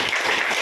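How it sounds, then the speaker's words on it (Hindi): A brief burst of steady clapping rises from a crowd at a gathering, applauding together for a moment. "माता जी के लिए जोरदार ताली।"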